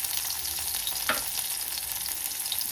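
Crushed small onions fry in hot oil with a dense, even sizzle, close and steady, with one brief stirring scrape partway through and no talking.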